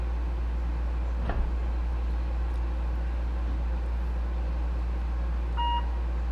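A single short electronic beep from a kitchen oven being set to 350 degrees, sounding briefly near the end over a quiet, steady low hum.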